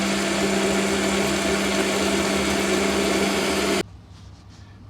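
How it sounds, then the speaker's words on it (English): A steady, loud motorized whir of a Corona drill runs for nearly four seconds before cutting off abruptly into quiet. "Drilling with the Corona drill."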